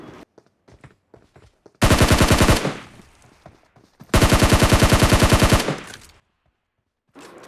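Two long bursts of automatic gunfire from behind the player in the PUBG battle royale game, loud and close, each lasting over a second with a rapid steady rhythm, separated by quieter scattered shots and movement sounds.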